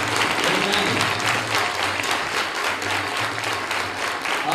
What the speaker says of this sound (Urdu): مجھے ایسا لگا جیسے پارٹیوں کے لیے جو ہم نے تالیاں بجائی تھی یہ اس سے زیادہ تھی